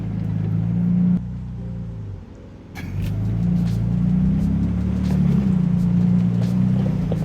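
A 2022 Ford Bronco Raptor's engine hums low and steady while it crawls up rocks on a forest off-road trail, dipping briefly and then rising with throttle, close and continuous.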